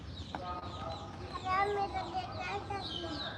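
A chicken clucks and chirps close by in an outdoor yard. Its quiet calls rise and fall over soft background sound, with faint voices around it.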